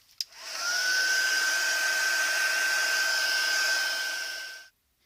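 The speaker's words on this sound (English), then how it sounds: "I'm going to use my heat tool again just to dry this off." A handheld heat tool blows steadily for about four seconds to dry faux leather, a loud continuous whooshing hiss with a thin high whine, starting with a short click and cutting off abruptly.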